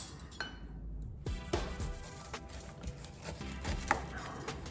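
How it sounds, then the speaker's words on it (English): Fruit being peeled with a knife for a fruit salad, with soft scraping and cutting strokes and a few small clicks on a board, close and fairly quiet, no voices. "And then I just peel it"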